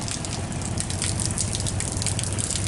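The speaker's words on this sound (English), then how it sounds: "there's water coming out of the hill right here. I guess it's a little spring." Water from a small spring flows out of a hillside, a steady, close, full-bodied gush and splash that holds evenly throughout with no voices.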